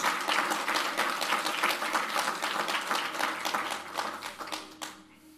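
A crowd applauds with dense, steady clapping that thins out and fades toward the end.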